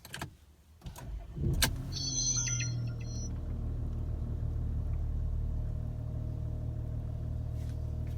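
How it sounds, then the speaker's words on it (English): A VW Touareg engine cranks and catches after a few clicks and a thump, then settles into a steady, close, even idle hum that runs to the end. "we're just going to go ahead and start the engine to prime the oil filter"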